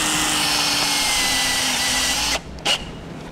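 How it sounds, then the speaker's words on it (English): A power drill drives a self-tapping screw into the sheet metal of a 2015 Cadillac SRX, whirring steadily up close before stopping abruptly, followed by a short final burst. "We'll use a self-tapping screw to secure it."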